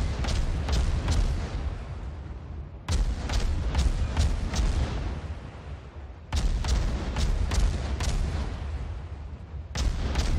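Torpedo hits from a Benson destroyer explode in World of Warships, three heavy booming bursts separated by short pauses, each opening with sharp cracks and rumbling away in deep low-end decay.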